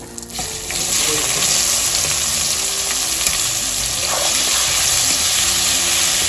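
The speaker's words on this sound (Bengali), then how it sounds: "পেঁয়াজ দিয়ে ভালো করে লাল লাল করে ভেজে নিতে হবে" Onions fry in hot oil with a bay leaf, producing a loud, dense, continuous sizzle after a quick start, close to the pan, with a stir or two and no voices.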